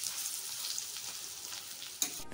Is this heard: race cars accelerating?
no